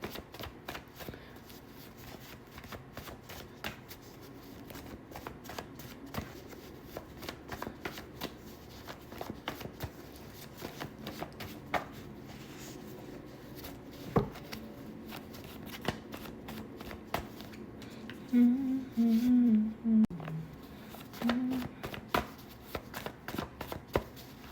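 Tarot cards shuffled by hand during a reading, a long run of quick soft riffling clicks and taps close by, with faint murmured speech toward the end.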